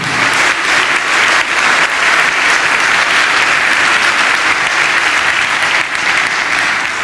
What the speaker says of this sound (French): Je pense qu'on peut applaudir Fred d'avoir partagé.